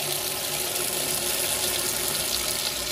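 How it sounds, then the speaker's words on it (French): Hot water runs steadily from a tap into a sink as a constant, moderately loud hiss and splash. "Là je fais couler pour avoir de l'eau chaude."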